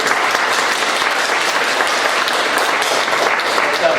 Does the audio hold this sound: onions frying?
no